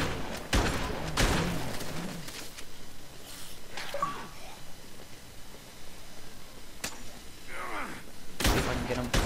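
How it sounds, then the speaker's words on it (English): Shotgun blasts in the zombie video game Dead Rising 2: Case Zero, several sharp booming shots spaced irregularly, loud against a low background of game noise. "Go ahead and use up these shotguns"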